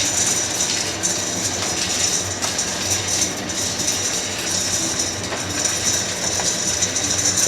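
A 1959 Axeman Anderson 130M runs fully revved, giving a steady, loud mechanical roar with a low hum and bright rattling, close and continuous with no speech.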